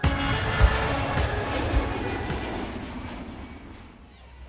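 Airplane taking off, a steady loud roar of jet engines heard from inside the cabin, rumbling continuously and easing slightly toward the end.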